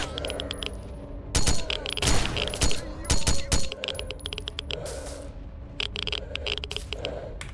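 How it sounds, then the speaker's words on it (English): A makeshift sniper rifle set to single shots fires in STALKER: Shadow of Chernobyl, giving sharp, loud cracks in irregular clusters with metallic clinks between them. "I changed the rifle so that it will only fire one shot per burst"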